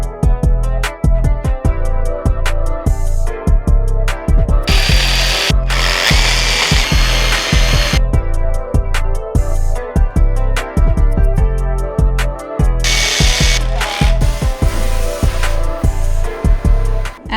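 Power tools working on a painted wooden shelf being installed in a home office: loud, continuous drilling and driving with rapid repeated bursts and short gaps, close and dominant throughout.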